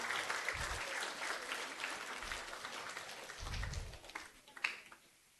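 Audience applause at a Child Evangelism Fellowship children's event, encouraging a young award winner; steady clapping from a crowd fills the room, with a louder burst near the end before it fades.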